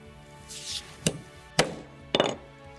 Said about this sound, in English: So I'm going to come in with my divot, make a hole.